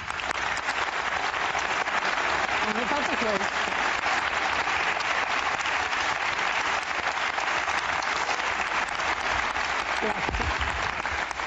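Sustained applause from a television studio audience on an Italian talk show fills the space, dense and steady throughout, with someone speaking briefly over it near the start and end.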